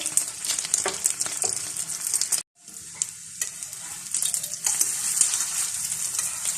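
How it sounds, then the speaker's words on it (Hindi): Chicken or potato cutlets fry in oil with a loud, close sizzle and bubbling crackle that cuts out for a moment, then resumes just as busy and steady. "और इस तरीके से मैं इनको फ्राई कर लूँगी थोड़ा थोड़ा करके"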